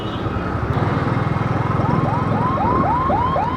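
An ambulance siren wails on a road, its rising and falling sweeps growing clearer and repeating over the steady rumble of a motorbike ride.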